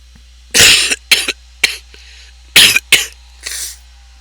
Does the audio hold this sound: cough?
yes